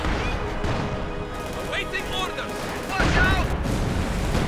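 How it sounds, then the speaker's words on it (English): Video game artillery fire pounds German infantry positions, a dense rumbling barrage of blasts that swells louder near the end, heard under a commentator's continuous talk. "artillery going in against the officer and the German infantry positions here"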